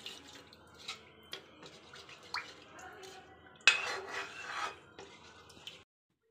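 A spoon scrapes and rubs around a bowl as ghee is mixed into gulab jamun dough made with milk, in soft irregular rasping strokes up close, louder toward the end, with no talking.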